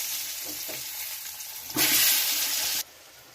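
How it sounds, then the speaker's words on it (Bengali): Eggplant coated with turmeric and salt drops into hot oil and bursts into a loud, close, steady sizzle for about a second before cutting off abruptly. "তো একটু হলুদ গুঁড়ো আর একটু লবণ দিয়ে দিচ্ছি, কারণ বেগুনটা আমি ভাজবো।"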